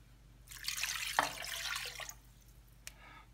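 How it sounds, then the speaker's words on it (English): Chicken broth pours into a crock pot in a brief splashing stream lasting about a second and a half, then trails off into a couple of faint drips. "next I'm gonna pour in the chicken broth"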